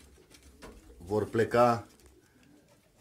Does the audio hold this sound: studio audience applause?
no